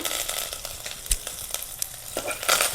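Mustard seeds, dried chillies and curry leaves splutter in hot oil for a Mandya-style bassaru tempering, with dense sizzling and sharp irregular pops, close and lively, with no talking.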